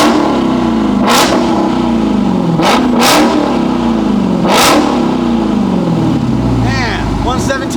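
A Dodge Charger Hellcat Redeye with a Borla Atak exhaust and 5-inch tips, loud and close, snapping through four sharp revs over a heavy rumbling idle, with faint voices near the end.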